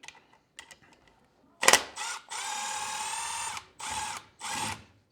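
Power drill driving a bolt with a KNECT low-profile socket on an extension: a sharp ratcheting burst, then a long steady whine and two shorter bursts, close and loud after a few faint taps.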